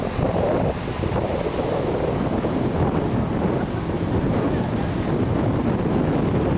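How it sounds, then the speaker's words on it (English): Strong wind buffets the microphone on a breezy beach where a river runs into the sea, a constant loud low rumble with steady roar and no voices throughout. "It's a beautiful day, quite windy, as you can probably hear on the microphone."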